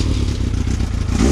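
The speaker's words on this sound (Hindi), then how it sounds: "तो माशाल्लाह से मोटरसाइकिल स्टार्ट हो गया" A Yamaha R6 sport motorcycle engine idles steadily right after starting, close and loud, with a continuous low throb and some mechanical clatter. No one speaks.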